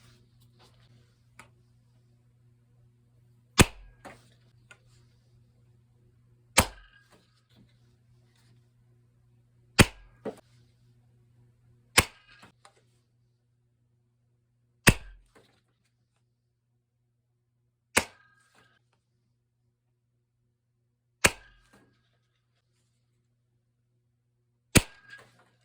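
A Parasite MK2 foam blaster with a 4-inch barrel fires Adventure Force darts, giving eight sharp, isolated snapping shots spaced a few seconds apart over a faint steady hum.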